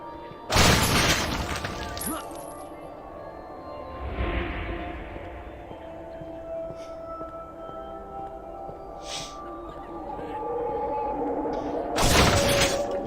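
Objects shatter and crash in the shooter game Painkiller Hell and Damnation, with bursts of breaking at the start, middle and end over a steady game soundscape.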